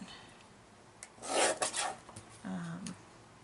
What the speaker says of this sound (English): I'm just using this really old Fiskars small guillotine trimmer